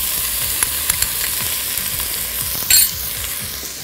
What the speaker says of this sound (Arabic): هنزل البصل وهنزل معاه الجزر